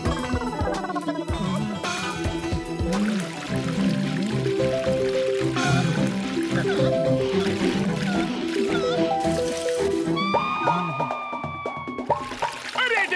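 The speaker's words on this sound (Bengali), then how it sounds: "দাও, আমি ঢেলে দিচ্ছি।" Liquid medicine poured out in a Motu Patlu cartoon scene, a steady pouring and trickling sound running beneath loud background music and voices.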